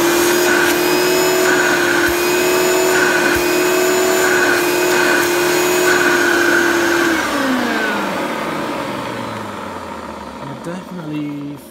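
A Hoover TurboPower 1 vacuum cleaner runs in tools mode with a loud, steady motor whine, then powers down, the pitch sliding lower as the motor winds to a stop.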